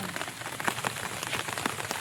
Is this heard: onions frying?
no